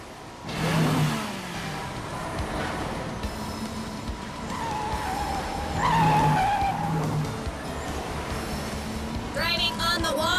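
Cartoon race car fitted with anti-slip tires speeds along a wall, its engine revving and tires squealing in bursts over a busy, loud soundtrack.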